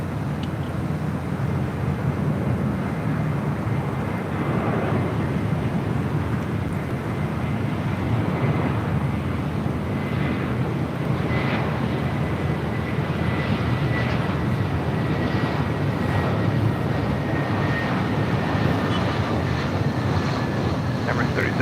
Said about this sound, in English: this is Emirates Flight 216 Super taking off to Dubai on the A380